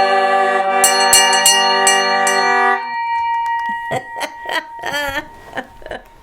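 A ship's bell is struck repeatedly for the watch change at sea, several loud ringing strikes with long sustained overtones that fade out, followed by people laughing and talking.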